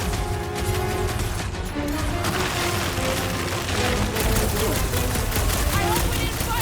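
Rapid gunfire and crashing impacts in the video game Marvel's Guardians of the Galaxy, with loud continuous bursts of shots and booms under excited character voices.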